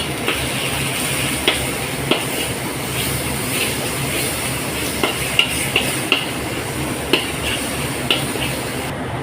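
Kashmiri chilli powder, turmeric, garam masala and tomato sauce sautéing in a pan for beef goulash, a steady sizzle broken by regular sharp ladle taps and stirring scrapes, with no talk.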